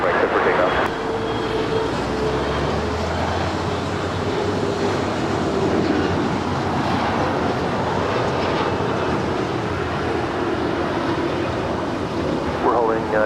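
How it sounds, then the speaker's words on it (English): A United Airlines Airbus A320 arriving from Orlando lands at LAX, a loud continuous roar and rumble of engines and wind that holds for several seconds. Someone speaks faintly underneath. "That right there is United Airlines Flight 2387 coming in from Orlando, Florida. It's an A320."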